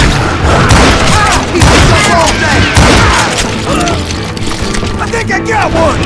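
Loud, dense gunfire fills a Call of Juarez Gunslinger video game shootout, rapid overlapping shots and booms crowding close together, with voices mixed in among the blasts.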